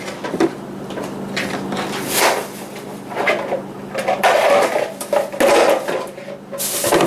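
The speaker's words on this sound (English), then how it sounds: "Get one of my bowls." A bowl is taken out of a kitchen cupboard for making sauce, with scrapes, knocks and a cupboard or drawer sliding, close and moderately loud amid low household hum, with no talk.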